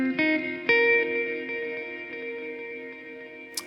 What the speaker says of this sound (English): but more of a granular reverb